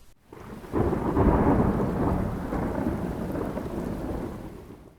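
A loud rumble of thunder rolls in suddenly and merges into a dense, close roar of heavy rain that holds steady, then eases slightly near the end.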